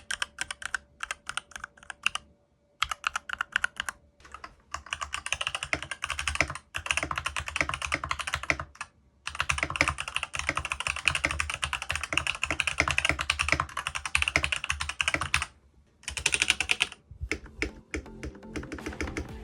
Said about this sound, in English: I'm personally a big fan of how the keyboard sounds.